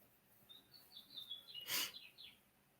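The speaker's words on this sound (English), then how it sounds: "I can hear the birds chirping away out there." Faint bird chirps drift in from outdoors, short high tweets scattered across a few seconds, distant and quiet with a soft background hum.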